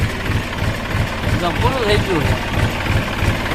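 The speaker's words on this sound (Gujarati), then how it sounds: "જો ટ્રેક્ટર ચાલુ છે એટલે આપણે હાંકવા જ મંડવાનું છે" A tractor pulls a toothed harrow across a farm field, its engine giving a steady, close, low rumble throughout while someone talks over it.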